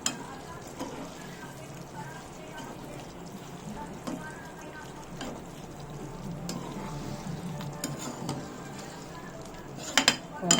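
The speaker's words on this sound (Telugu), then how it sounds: "మొత్తం అయితే ఒకసారి కలుపుకుందాం." Chicken curry being stirred in a pan, a spoon scraping and clinking against the metal under a low simmering sizzle, with a few sharper knocks toward the end.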